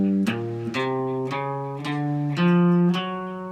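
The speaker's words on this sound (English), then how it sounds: "The transition lick that I just showed you, that tab, actually sounds like this." A slow electric guitar lick plays a handful of distinct picked notes about half a second apart, each sustaining cleanly into the next, close and steady in level.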